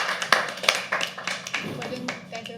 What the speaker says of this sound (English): one round of applause for Jigna